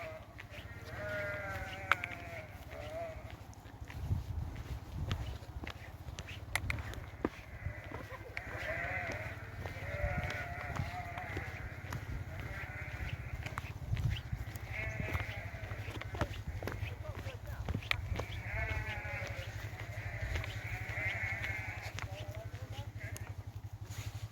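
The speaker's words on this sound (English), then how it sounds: "So they're herding the sheep down here." A flock of sheep being herded down a lane on a hillside, bleating repeatedly in overlapping calls of varying distance over low rumbling background noise, with occasional faint talk.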